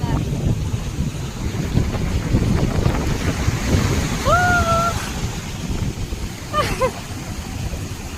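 Heavy surf roars and churns continuously with wind buffeting the microphone, and a couple of brief whistle-like tones cut through the rush of water.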